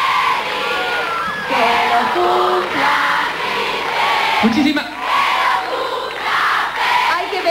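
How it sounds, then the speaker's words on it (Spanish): A crowd at a televised Argentine children's variety show cheers, whoops and applauds loudly and continuously, with voices speaking over the noise. "quiero pedir un aplauso a toda la gente que estuvo acá conmigo."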